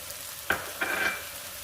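Garlic hits a hot pan with a quick sharp sizzle, then a second burst of frying crackle follows as it is pushed around, brief and fairly quiet.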